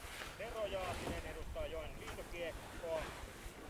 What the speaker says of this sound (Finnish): Rankkaa tuulta meillä tarjolla.